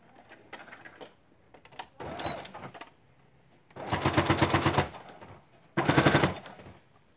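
A sewing machine stitches bias binding along a seam edge in short close bursts, a rapid rattling whir that starts and stops several times, with the last two runs longest and loudest.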